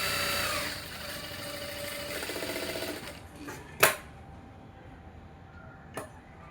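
A domestic sewing machine stitching the lining of a blouse runs steadily for about three seconds and then stops, followed by a couple of sharp clicks and some light handling noise.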